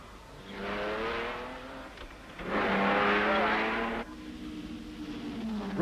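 Triumph Spitfire racing cars from 1964 pass at high revs during the Tour de France Automobile, their engines rising and swelling in two long passes. A narrator talks over the engine noise.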